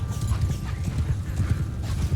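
Dense clip-clop of many galloping horses in a Mount & Blade II Bannerlord battle, hooves of saddled, unbarded mounts drumming in a fast rolling rhythm, close and fairly loud, with no voices.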